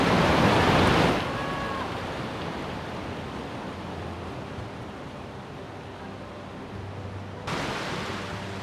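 Powerful river water rushing through a canyon in Turkey, a loud, steady broadband roar with a louder burst at the start and end, close and continuous with no talking.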